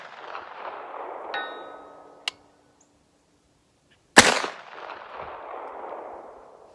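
A SAR 109T 9mm pistol fires two sharp shots at an outdoor range, each followed by a bright metallic ring from a steel target, the second louder and trailing into a noisy wash of ambient sound.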